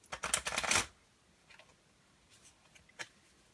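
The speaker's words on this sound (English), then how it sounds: "Let me go and let me give this a shuffle." A quick, close riffle of MPC Impressions playing cards being shuffled, a dense flurry of flicks lasting under a second, followed by a few soft handling taps.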